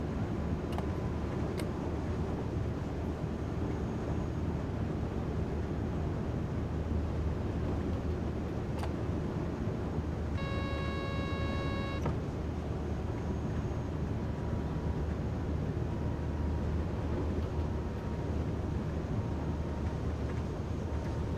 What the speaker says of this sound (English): Buzz sound you heard was the CFAR